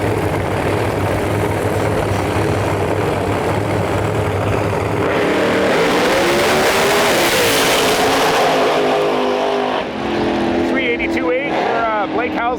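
Pro Mod drag race cars, including a Corvette, roaring down the track at high speed, a loud sustained engine blast that swells around the middle and fades toward the end.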